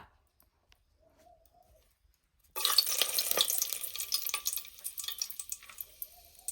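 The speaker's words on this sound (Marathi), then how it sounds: "तेल गरम झालं आता तेजपत्ता टाकतो" Bay leaves dropped into hot oil in a pan for Vidarbha-style spicy chicken biryani: near silence, then a sudden loud, dense crackling sizzle that carries on steadily, close by.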